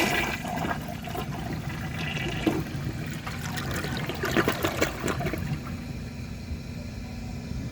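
A 2003 Kohler Serif toilet flushes a washcloth: a close, loud rushing swirl of water draining down, followed by gurgling and a quieter trickle as the bowl refills, with no talking.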